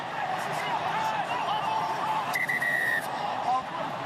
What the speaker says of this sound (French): Coup de sifflet de Monsieur Dixon